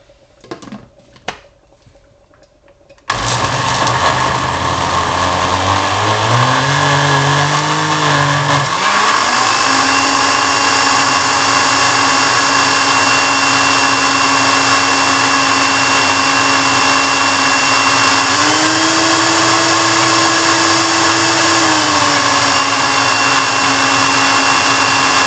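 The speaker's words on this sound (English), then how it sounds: "So the blender is not going as I would like it" A kitchen blender churns green seasoning made with a little water, cutting in abruptly after a few faint knocks, then whirring loudly and steadily with its motor pitch shifting several times.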